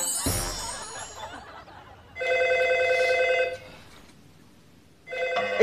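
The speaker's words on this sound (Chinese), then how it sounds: "哎，电话。 电话。" An indoor telephone rings in two long electronic bursts separated by a pause, clear and close, after a brief burst of laughter at the start.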